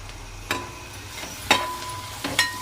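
Ginger, garlic and green chili frying in a pan for a mutton dish, a steady low sizzle broken by three sharp clinks of a stirring spoon at intervals, close and without talk.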